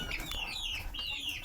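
Chickens cluck and chirp in a backyard flock kept for meat, with overlapping high calls close by and a steady murmur of birds filling the short moment.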